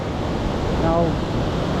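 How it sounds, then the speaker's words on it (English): High river flows with a steady, broad rush of water, loud and continuous, roughened by wind on the microphone, with a brief faint voice in the middle. "The river is pretty high today, and we still carry on."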